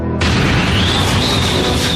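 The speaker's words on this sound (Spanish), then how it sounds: "Cuando la puerta estalló" An American Airlines airliner's cargo door bursts open at altitude: an abrupt, loud blast gives way at once to a sustained roaring rush of escaping air that fills the rest of the moment.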